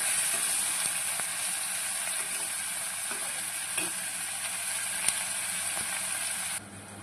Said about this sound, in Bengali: এই পেঁয়াজগুলো হালকা ভেজে নেব, খুব বেশি ভাজবো না